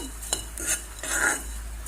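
Flattened rice (chira) being stir-fried in ghee on a gas stove, with a spoon scraping and stirring in the pan in repeated soft strokes over a steady low sizzle, close up.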